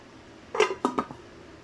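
A few quick metallic clanks and a clatter, like a lid being set onto a pot, near and fairly clear, with quiet room tone around them.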